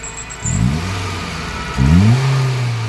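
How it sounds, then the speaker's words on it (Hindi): A Maruti Wagon R petrol car with a pickup problem and an odd noise revs twice, each press of the accelerator rising into a rough, mid-pitched engine roar before settling back to idle, close and loud. "जैसे ही मैं एक्सीलेटर दे रहा हूँ ना, एक आवाज़ सी अजीब सी"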